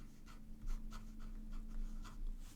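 Fountain pen nib, a Pilot Custom inked with Hachimonjiya Ginzan Snow Gray, scratching across paper in a series of short, quiet strokes, close and soft with no talk.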